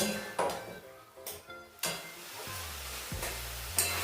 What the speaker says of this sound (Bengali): এবারে চিকেনটা পেঁয়াজ আদা রসুনের সাথে 5 মিনিট একটু কষিয়ে নেব